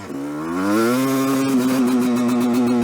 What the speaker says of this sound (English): Check out this rev limiter electrical cutout style thing I got going on.